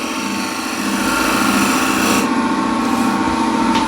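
A wooden bowl being shear scraped on a lathe gives a steady, continuous rasping scrape with a constant rotating hum underneath, close and loud throughout, with no voices.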